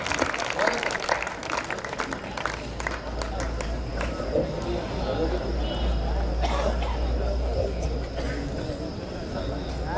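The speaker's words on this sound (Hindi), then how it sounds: "उस बड़े व्यंगकार के लिए आपकी बड़ी तालियां" A crowd applauds a satirist poet at a kavi sammelan during the Dussehra fair in Banswara, a steady, loud wash of clapping lasting the whole stretch with some voices mixed in.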